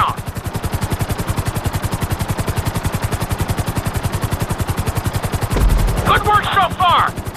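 A helicopter flies at full speed in GTA 5, its rapid, steady rotor chop pulsing loud and continuous throughout, with a brief louder thump and a short burst of higher chatter near the end.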